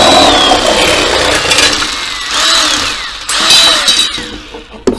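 Milwaukee power shear cutting across an aluminum cable tray cover, a loud continuous motor whine with grinding metal, surging and easing in passes over about five seconds, close up with no talk.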